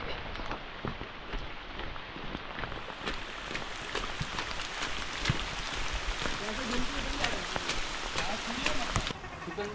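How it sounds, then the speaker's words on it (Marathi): Heavy monsoon rain patters steadily on a surface at Ratangad Fort in the Sahyadri hills, a dense hiss of drops with scattered sharper hits, fairly faint and continuous throughout. "बेकार पाऊस आहे"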